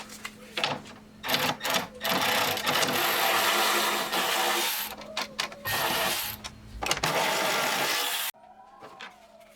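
Ratcheting and whirring from a tool backing out E10 bolts on the upper timing cover of a first-generation Chevrolet Cruze 1.8L, dense and close for most of the stretch, with brief breaks, then a sudden drop to quiet near the end.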